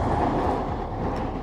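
A train rumbles past close by, a loud steady roar of rolling wheels and cars filling the whole moment.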